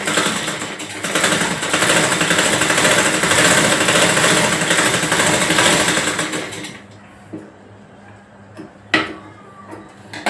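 A sewing machine stitching a little girl's frock runs in one steady loud whirring burst for about seven seconds, then stops, leaving a quiet room with a few faint knocks and handling sounds.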